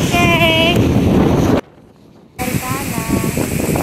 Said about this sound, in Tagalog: Ang lakas ng hangin guys, grabe!